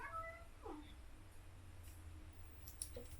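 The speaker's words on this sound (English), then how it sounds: "Excuse the angry kitty." A cat meows angrily indoors in a few short, tense calls near the start, with a faint click later, set against a steady low hum.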